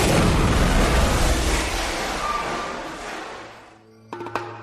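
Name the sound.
explosion sound effect from ignited methane gas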